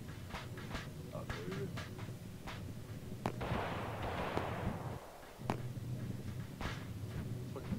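Rocket launcher explosions in the battle royale game Totally Accurate Battlegrounds, several sharp blasts and a broad rumbling burst amid steady gunfire-like pops and game noise, with voices talking in the background.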